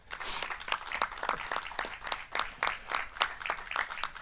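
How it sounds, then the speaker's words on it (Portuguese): Applause at an academic colloquium, with a small audience clapping in quick, uneven bursts that rise and fall, moderately loud and without talking over it. "Só por isso o meu aplauso"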